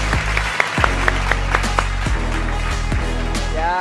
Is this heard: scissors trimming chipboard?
no